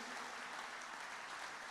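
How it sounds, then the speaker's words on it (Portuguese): Church congregation clapping for the Lord during a worship service, a brief steady wash of applause heard quietly and fairly distant. "Dê um aplauso bem forte ao Senhor."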